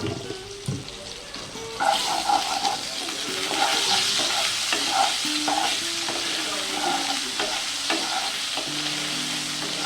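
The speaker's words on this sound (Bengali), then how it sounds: "আলুগুলো এক মিনিট মতো ভেজে নিয়েছি" Potatoes fry in a pan for a bottle gourd and shrimp dish, giving a steady, bright sizzle with repeated stirring scrapes and clinks throughout. No one speaks.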